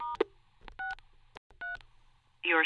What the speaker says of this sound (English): Dial *63.